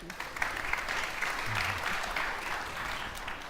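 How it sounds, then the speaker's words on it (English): An audience applauds at a conference stage event, a full continuous round of clapping that holds steady for several seconds. "Applause for Daria."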